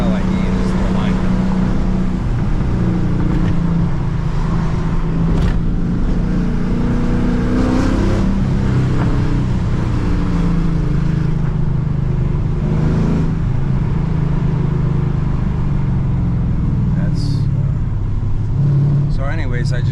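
A Dodge Challenger's engine drones steadily with road noise and rumble throughout, heard from inside the moving car.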